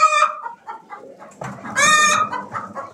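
Hens cluck and squawk nearby in short bursts, one sitting in a pigeon box, with one louder drawn-out call in the middle, over a quiet background.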